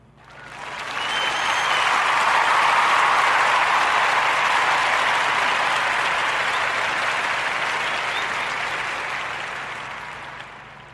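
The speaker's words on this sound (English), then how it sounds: "giving Manuel and his partner Giselle the warmest Narrative Podcast round of applause for Black Sands Entertainment." A podcast audience gives a sustained round of applause, a dense, even wash of many hands clapping that swells in quickly, holds steady for several seconds, then slowly tapers.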